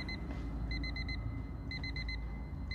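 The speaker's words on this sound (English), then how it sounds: "that alarm means your time is over" An alarm on a timed driving-challenge session sounds in short clusters of bright, rapid electronic beeps, repeating in two bursts over a steady low rumble with no talk.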